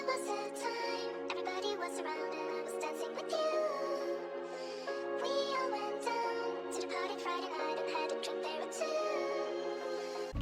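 A drill melody loop from a sample kit, sped up to 150 BPM, plays alone as a steady repeating pattern of layered tonal chords over sliding bass notes, loud and continuous throughout.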